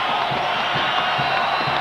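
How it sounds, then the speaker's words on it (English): A basketball arena crowd at a Lobos game roars in a dense, sustained wash of cheering and whooping, loud and continuous with no break. "You hear the crowd."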